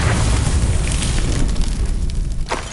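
Loud, dense blast of a Confringo explosion spell in the Hogwarts Legacy video game, a sustained roaring burst that fills the whole span with a brief crackle near the end.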